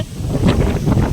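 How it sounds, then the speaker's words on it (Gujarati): Strong wind blows at a farm, rumbling steadily and loudly against the microphone in a short gusty burst with no talking. "પવન બહુ ઝાઝો આવે છે બા"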